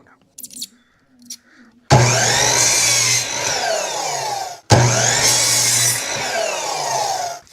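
A power saw cuts cedar wood pieces into six-inch lengths: two loud, close cutting passes with a droning motor and rasping blade, split by a short pause, after a few faint handling sounds.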